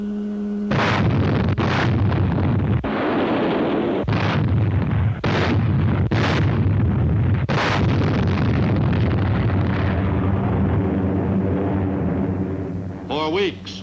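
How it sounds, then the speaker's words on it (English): Warships shell Kwajalein Atoll in a string of heavy, booming blasts spaced a second or two apart, loud and close, each blast followed by a rumbling roar. "they planned to see to it that no one could possibly consider the naval shelling too light"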